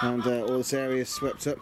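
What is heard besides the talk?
chickens clucking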